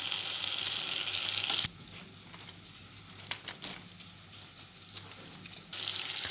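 Food fries in a pot, a loud hiss that drops abruptly to a muffled crackle once the lid covers it, then swells again when it is lifted near the end.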